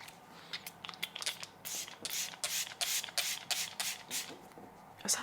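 Several quick bursts of a makeup setting spray bottle misting, close by, with brief pauses between sprays and soft rattling from shaking.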